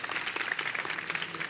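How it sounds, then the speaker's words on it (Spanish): An audience at a talk on video game history applauds in a brief, steady patter of clapping, moderately loud and continuous. "Un aplauso,"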